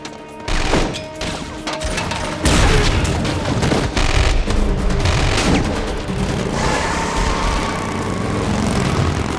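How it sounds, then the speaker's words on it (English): Heavy gunfire rattles through a high-speed movie chase with dense overlapping shots and bursts, mixed with roaring engines and a rushing soundtrack, loud and continuous. "Lay suppression fire!"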